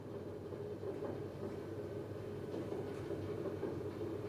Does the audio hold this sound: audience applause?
no